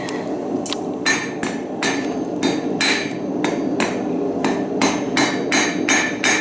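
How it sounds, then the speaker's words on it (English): Hot steel struck on an anvil with a hammer during blacksmith forging, about a dozen sharp ringing blows at a steady rhythm over a constant background hiss, loud and close. "So I've hit this over the edge of the anvil"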